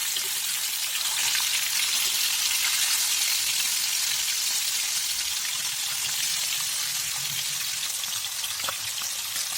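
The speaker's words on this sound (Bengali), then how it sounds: "চুলায় তাওয়া বসিয়ে এগুলো ভাজি করে নেব।" Fish pieces frying in oil on a flat tawa on a stove, a steady close sizzle with crackling pops throughout and no talking.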